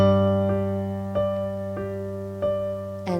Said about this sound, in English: so it's going to sound like this together